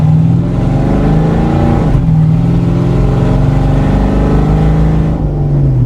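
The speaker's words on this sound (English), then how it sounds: "If you do want to listen to that V8 that's under the hood" A 1979 GMC Jimmy's V8 idles with its exhaust valves open, giving a loud, steady, deep rumble close by with a brief dip and swell in the middle and no voices.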